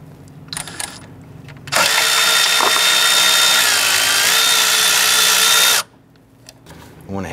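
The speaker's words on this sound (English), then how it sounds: "Gonna use our 10 millimeter socket and extension and remove the center bolt." A power ratchet with a 10 mm socket and extension spins out a center bolt on a 2008-2013 Nissan Rogue during AC compressor work, giving a loud, steady whir for about four seconds between quieter handling noises.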